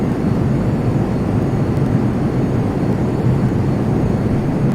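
An airplane engine in the Prepar3D flight simulator drones as a steady, loud, broadband roar at top speed, unbroken for several seconds with no talk over it.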